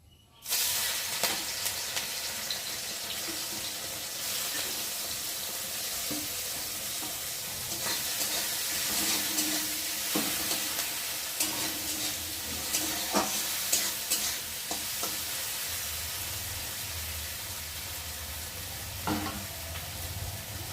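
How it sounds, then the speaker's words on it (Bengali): Prawns fry in hot oil in a home kitchen, giving a steady, close sizzling hiss with crackles and pops scattered through it. The sound carries on without a break and no one talks. "চিংড়ি মাছগুলোকে ভেজে নেব"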